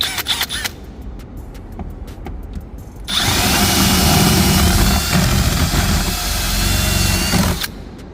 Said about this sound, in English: I am drilling right dead smack in the middle until that little cap piece comes off